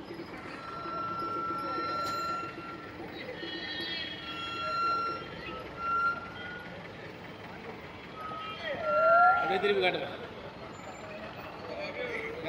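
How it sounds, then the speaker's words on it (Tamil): Heavy trucks and other vehicles idle and creep along in a traffic jam on the Nilakkal mountain road, with engine rumble, a horn blast and brake hiss, while someone talks throughout. "மலையே ஃபுல்லாக போக்குவரத்து நெரிசல்"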